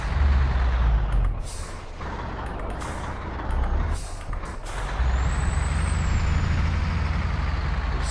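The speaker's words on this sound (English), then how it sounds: "And there's the exhaust brakes." A MAN F2000 truck in Euro Truck Simulator 2 runs its exhaust brake on a Russian map, a loud steady rumble with bursts of air brake hiss and a brief high whistle, no talking.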